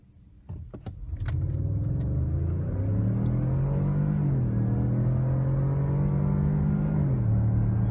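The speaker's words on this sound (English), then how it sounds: "I'm gonna hit the gas and that's it" A 2017 Ford Edge Sport with the 2.7 EcoBoost engine, in sport mode, launches hard from a standstill toward 60 mph. Loud engine and road roar build quickly with rising harmonics and one brief dip as it shifts, heard from inside the cabin with no talk.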